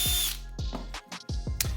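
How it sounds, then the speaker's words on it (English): A power drill bores a series of holes into a wooden knife handle, with short close whirring bursts that start and stop in quick succession and no talking. "I'm gonna first drill out a bunch of holes so that I could use the bandsaw to clear out the letters."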